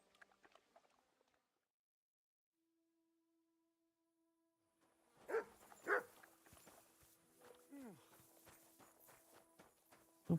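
A dog barks in Kingdom Come Deliverance 2: a few sharp, loud barks in quick succession amid hoofbeats and footsteps, following a near-silent stretch with faint game ambience.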